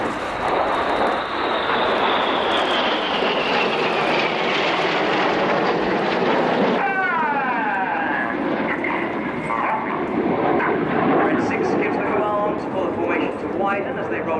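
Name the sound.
RAF Red Arrows jets flying past at air display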